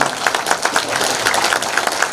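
Applause from the audience at a Korean book launch event, a short burst of steady, close clapping.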